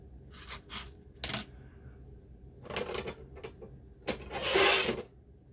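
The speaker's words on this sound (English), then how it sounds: "I know I'm rattling the table. I'm just trying to, the fabric was kind of glued to this side of the chipboard." A table rattles as glued fabric is peeled off a chipboard panel, giving sporadic bursts of clattering and tearing scrape, with a longer, louder rip near the end.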